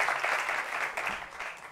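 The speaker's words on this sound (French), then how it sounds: "Qu'on applaudit très fort." A studio audience on a French-language television talk show applauds steadily and fairly close, a dense wash of clapping that holds for the whole stretch with no voices over it.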